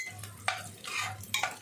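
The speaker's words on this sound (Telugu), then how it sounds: "ఇవన్నీ మనం బాగా ఫ్రై చేసుకోవాలి ఫ్రెండ్స్." Onions, green chillies, curry leaves and masala frying in oil, a couple of brisk stirring scrapes over a gentle sizzle, close and brief, with no voices.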